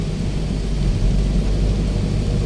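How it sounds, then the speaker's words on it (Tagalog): Heavy rain pours steadily on Commonwealth Avenue, a wide city road, on a rainy morning during a storm, a dense, constant low roar with a rumbling undertone, loud and unbroken, with no voices. "Walang tigil ang ulan."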